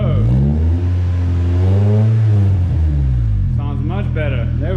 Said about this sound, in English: Geef een beetje gas.